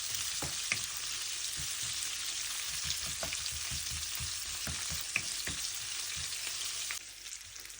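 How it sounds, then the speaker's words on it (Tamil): Onion, green chillies and curry leaves sautéing in a pan over medium heat, a steady close sizzle with soft scraping stirs and light crackles throughout, no talking. "நாலஞ்சு துண்டு கருவேப்பிலை, 2 பச்சை மிளகாய், ஒரு பெரிய வெங்காயம் எல்லாத்தையும் போட்டு வதக்குவோம்."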